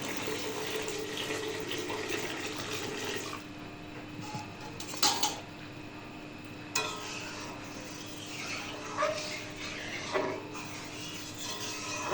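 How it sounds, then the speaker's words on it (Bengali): Water pours into a pot of lentils and mixed vegetables for a home-style dal and vegetable curry, a steady rushing splash for a few seconds that stops, followed by quieter clinks and rustles nearby. "এই পর্যায়ে দিয়ে দেবো পরিমাণ মতো পানি।"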